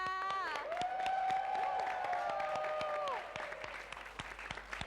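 Studio audience applause welcoming seven young contestants on a Thai television talent show, a burst of clapping and light cheering under sustained musical tones, easing off after about three seconds.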